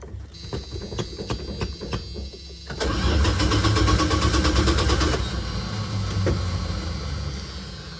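A 1987 Dodge Ram B150 shorty van with a slant 6 and Holley 1920 carburetor, not started in a while, cranks with rapid rhythmic starter pulses for a few seconds, then catches and settles into a rough, loud idle.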